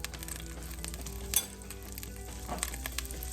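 Butter and olive oil sizzle and crackle steadily in a frying pan on lowered heat, with brief clinks of a utensil against the pan over a continuous frying hiss.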